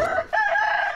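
A rooster crowing in a tiger simulator game, a short, loud crow broken into two bursts with a brief dip between them, heard alone.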